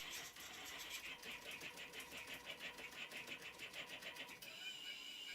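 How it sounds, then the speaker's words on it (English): Homemade DIY CNC machine plotting a pattern of concentric circles and straight lines, a steady rhythmic whirring and buzzing of stepper motors that runs continuously at low level, then shifts tone near the end. "With sending the start command, the machine begins to plot the file."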